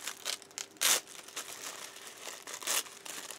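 Tissue paper is torn and pulled away from sewn fabric strips, giving close, crisp crinkles and two louder ripping bursts amid softer rustling.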